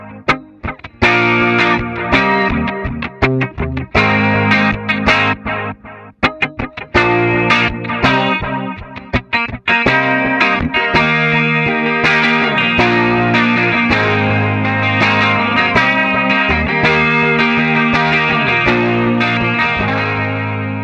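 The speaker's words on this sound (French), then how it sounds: "Je vais donc repasser sur un modèle clean en y ajoutant cette fois un chorus et un écho." An electric guitar plays through a Yamaha THR10II amp on a clean setting with chorus and echo, giving loud, shimmering strummed chords and picked notes with repeating echoes. The guitar plays alone, with no voices.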